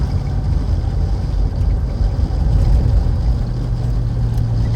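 A 1984 GMC Suburban K2500 with a Detroit Diesel cruising on a freeway, giving a steady, loud low drone of engine and road noise with wind rush throughout and no talking.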